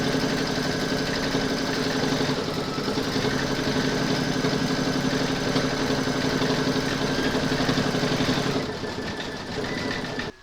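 An embroidery machine stitches round 10 of a crazy-patch mug rug, with a steady fast mechanical whirr and rattle that holds evenly for most of the stretch before slowing and stopping at the end.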